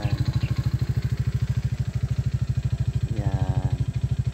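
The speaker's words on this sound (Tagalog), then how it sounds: "Dari mag-agi ang motor." A motorcycle engine chugs close by with a fast, even putter that holds steady throughout, and a voice speaks briefly over it near the end.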